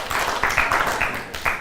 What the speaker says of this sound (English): You're the first person to ever get applause for showing up.